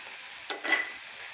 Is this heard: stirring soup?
yes